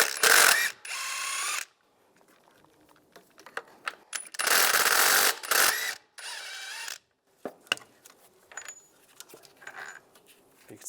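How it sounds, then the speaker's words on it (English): A hand ratchet with an 18mm socket works two bolts loose on a 1999-2005 Volkswagen Jetta during a water pump job, heard as several close bursts of rapid clicking separated by pauses and small metallic clinks. "We'll take these two bolts out using an 18mm socket."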